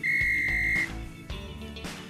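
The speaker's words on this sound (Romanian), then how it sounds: "poți să folosești această clapă pe post de fluier, astfel localizându-ți grupul mai ușor" Whistle blown on a soda can pull tab, a single shrill steady tone lasting under a second, loud and close, followed by faint clicks and room noise.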